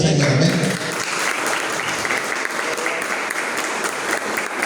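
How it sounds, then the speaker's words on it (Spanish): A church congregation breaks into loud, sustained applause, dense clapping filling the room evenly with a few voices underneath. "¿Cuánto le dan un aplauso al Señor?"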